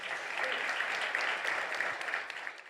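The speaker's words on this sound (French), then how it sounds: "je vous inviterai à applaudir chaleureusement nos finalistes entreprises de services commerce de détail" An audience at an awards event applauds the finalists in the services and retail business category, dense steady clapping that fills the room and tapers off slightly at the end.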